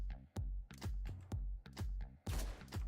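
Rapid assault-rifle fire in the top-down video game Hotline Miami, heard as six or seven loud, punchy shot bursts in a rough rhythm, with a denser, noisier blast near the end and no talking.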